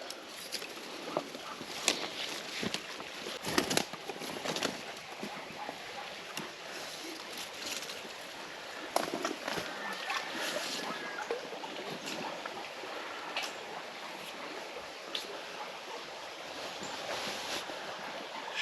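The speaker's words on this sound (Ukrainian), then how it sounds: "Струмок протікає як і через село, так і значна частина його тече лісом." A small stream winding through a village and forest flows with a steady, soft broadband rush, dotted with occasional faint clicks and rustles close by.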